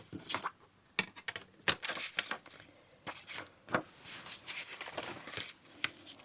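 Scissors snip through a sheet of paper for a journal page, giving a series of soft, close, irregular cuts and rustles with short pauses between them.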